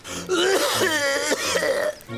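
A person coughs and clears their throat several times in a rough, hoarse burst, close and fairly loud.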